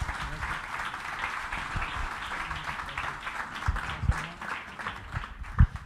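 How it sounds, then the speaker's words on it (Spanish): A conference audience applauds steadily throughout, a dense wash of clapping from a large crowd with a few louder claps near the end. "un fuerte aplauso para nuestro presidente Botafogo."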